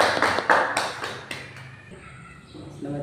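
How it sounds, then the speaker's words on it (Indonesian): Classroom applause from students after a group presentation, a burst of clapping that starts loud and then thins out over a few seconds, with a murmur of voices beneath it. "Oke, tepuk tangan."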